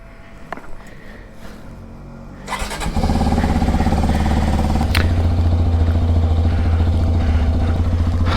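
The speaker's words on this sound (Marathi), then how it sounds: "बाईकला आता थोडासा कोल स्टार्ट देऊ" A motorcycle is cold started: faint clicks and cranking, then the engine catches and settles into a loud, steady, close idle with a slight lift in revs midway.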